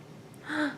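A person imitates a gasp with one short, close, breathy intake of air, alone and without speech.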